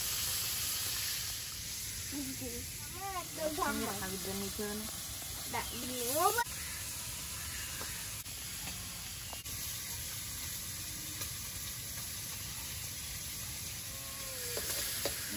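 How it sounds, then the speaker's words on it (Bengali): Sea fish frying in hot oil gives a faint, steady sizzle throughout, with brief distant voices and a few clatters in the background. "এইভাবে সব মাছগুলো ভেজে নেবো।"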